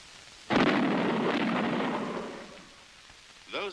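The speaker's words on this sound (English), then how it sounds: "Those bangs were shock waves from an aircraft in transonic flight." A sharp, heavy bang from a shock wave produced by an aircraft in transonic flight, booming loud and near, then rumbling away over about two seconds, followed by a brief fainter thud.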